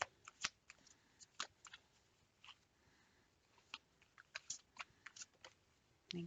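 Tarot cards are shuffled and drawn by hand, heard up close and quiet as soft scattered snaps, flicks and riffles in uneven bursts, with no talking.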